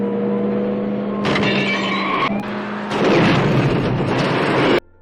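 Movie chase-scene car crash as one vehicle rams a police car: a loud rumbling engine roar with a harsh grinding burst midway, then a heavier crunching surge before an abrupt cutoff.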